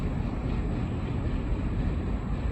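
An empty coal train rolls past heading into a rail yard, a steady, loud broadband rumble of wheels and cars that holds evenly for the whole stretch with no voices over it.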